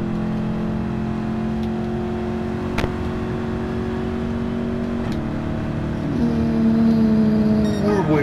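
A Ford Mustang Mach 1 drives in Gran Turismo, its engine holding a steady loud drone with a few brief ticks. Near the end the pitch shifts and the note rises as it accelerates.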